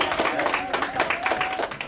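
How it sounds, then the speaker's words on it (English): A small audience claps to welcome guests at a football club's half-term fan event in Marsden, with quick, fairly close clapping for about two seconds and voices mixed in. "Can we give them a welcome from Marsden, a big clap?"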